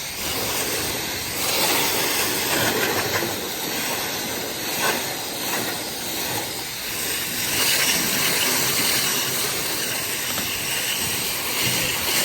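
A steady, forceful hiss of 250 psi water jet spraying into a gutter continues throughout, loud and close, with slight surges in intensity.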